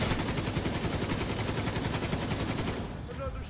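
Sustained rapid light machine gun fire in The Division 2 video game, a dense continuous burst of shots that cuts off near the end, with faint talk underneath.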